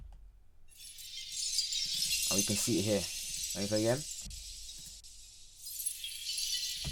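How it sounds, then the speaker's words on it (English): A glass shattering sound effect for a game character breaking through a pane, a bright crash with a long glittering tail of falling shards, while someone talks over it. "And he just literally breaks through that glass."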